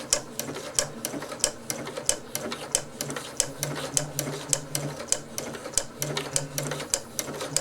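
A Janome 8077 sewing machine stitching at a steady pace, giving close, regular rapid clicks and a mechanical whir with short pauses between runs, heard alone.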